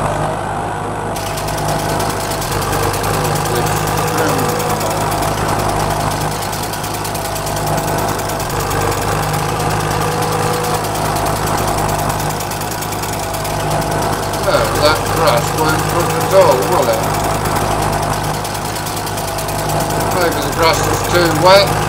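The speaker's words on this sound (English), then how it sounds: "Mower, there we have it." A mower engine runs steadily through wet grass on a farm, a loud close rumbling drone with knocking vibration, and people talk over it at times.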